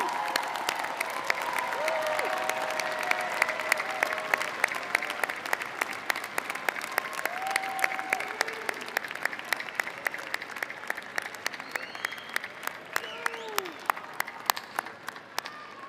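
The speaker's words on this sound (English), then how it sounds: "please stand and give a big round of applause to everyone in the audience and everyone online who's been there for you every step of the way" Large audience at an Ohio University spring undergraduate graduation ceremony giving sustained applause, dense rapid clapping that swells and carries on, with scattered whoops and cheers and a few voices mixed in.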